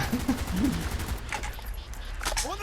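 Burst gunfire in Call of Duty Black Ops during a mission at the Laos–Vietnam border: a quick, regular rattle of shots up front, followed by scattered blasts, with someone talking over the fighting.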